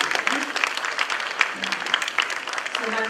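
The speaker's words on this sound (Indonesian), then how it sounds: "sepatutnya anda tepuk dengan lebih bersemangat lagi" An audience claps at an awards ceremony, dense continuous applause with crisp individual hand claps, moderately loud and filling the whole stretch, with faint voices underneath.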